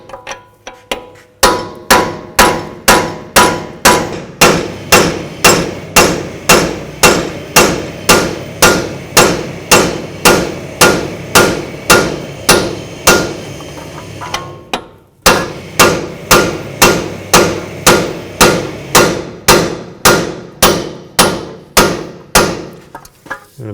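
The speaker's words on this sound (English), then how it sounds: "Then take a punch and a hammer. Just try to give it a tap." A hammer strikes a punch against the steering knuckle of a 2006-2010 Volkswagen Jetta to separate the strut, giving sharp metallic taps in a steady rhythm, loud and close, with one brief pause midway.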